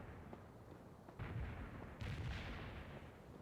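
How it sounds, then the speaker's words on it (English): Mortar barrage artillery fire in the World in Conflict video game, two muffled distant booms with rumbling low-end tails rising over a continuous battlefield background. "Firing mortars. The barrage will reach you soon."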